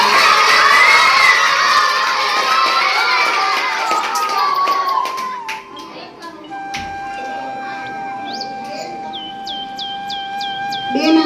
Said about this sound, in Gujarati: આપણે બધા તાળીઓથી સ્વાગત કરીશું.